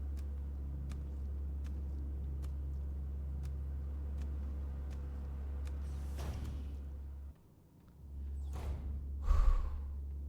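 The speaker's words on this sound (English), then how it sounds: "It's breathing." A creature in the horror game Signalis gives a few breathy, sigh-like exhalations, separated by pauses, over a constant low rumbling drone, with the last breath coming louder and closer.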